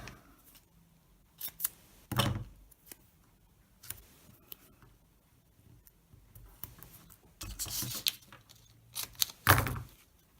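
Scissors snipping through a card insert for a handmade card, several short, crisp cuts in separate bursts with quiet pauses between, close by, no voices.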